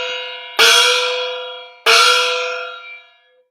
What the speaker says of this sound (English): my favorite instrument in the world, the quiet opera gong